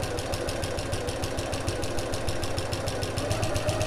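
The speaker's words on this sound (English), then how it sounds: "I'm just going to sew along each long edge 1/8 of an inch or 3mm away from the" A sewing machine runs steadily, stitching along the long edge of a fabric sack about 3 mm from the edge. It makes a continuous, fast, even mechanical whir with a regular pulsing rhythm throughout and no pauses.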